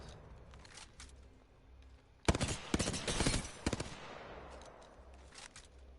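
Burst-fire gunshots from a 30-round weapon in the Apex Legends video game, a few sharp clustered bursts in the middle of the clip, loud against a quiet background.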